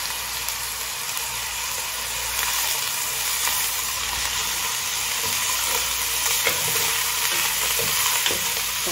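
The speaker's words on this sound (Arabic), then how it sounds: "قلي الكزبرة" Coriander frying in a pan for a Syrian purslane dish, giving a steady, loud sizzle with a brief stir partway through and no talking.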